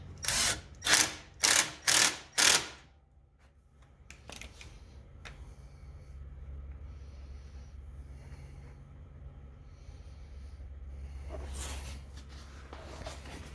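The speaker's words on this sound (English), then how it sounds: "install the module right about in the middle of the hose clamp and tighten it up" Five quick rhythmic ratcheting clicks come close and clear as a hose clamp is tightened around a motor module on a Ryobi RM480e electric mower, followed by a low steady hum and faint handling noises.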